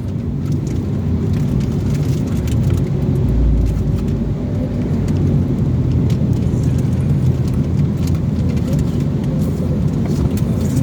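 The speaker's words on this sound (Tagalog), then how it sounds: "Ulan pa rin, maambon." Light drizzle falls on a car driving along a road, a constant broadband hiss of wet tires and rain over a steady low engine and road rumble, with no voices.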